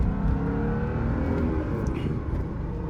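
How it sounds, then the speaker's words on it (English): A 2003 Dinan-tuned BMW Z8 drives through a U-turn, its engine a steady, close-up drone with a slight rise in revs over a few seconds. "We're gonna do a U-turn to show you that you haven't compromised turning radius or usability"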